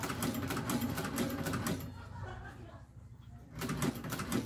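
Rapid mechanical chatter of a sewing machine stitching a backpack strap during a repair, running in fast bursts with a brief quieter pause in the middle before it resumes.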